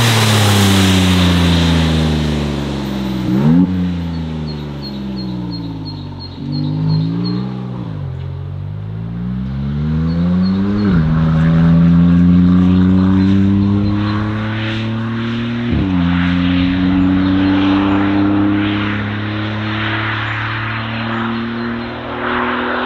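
A Novitec-tuned Maserati MC20 supercar with an aftermarket exhaust system revs loud and close, climbing in pitch through several gear changes and then settling into a steady, droning cruise.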